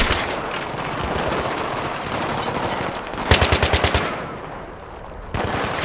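Sustained automatic weapon fire in the Battlefield 3 campaign mission Operation Guillotine, loud and close, with a rapid rhythmic burst standing out midway through a steady roar of shooting.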